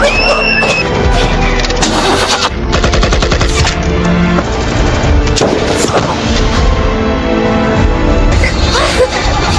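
Gunfire from a film battle against the de la Cruz cartel, a dense continuous barrage of shots and blasts heard loud and close throughout, mixed with a music score and action effects.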